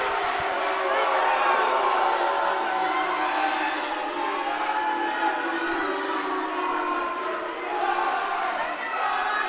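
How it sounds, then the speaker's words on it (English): A crowd at a collegiate swimming and diving meet between Tufts and MIT boos loudly and continuously in a reverberant natatorium, a sustained roar lasting throughout. "As you can hear boos from the crowd, they are not happy with that result whatsoever."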